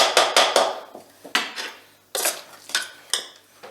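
Spoon clinking and scraping against a bowl while smoked salmon stuffing with cheese is mixed, a series of sharp irregular knocks and scrapes close up, with no talk.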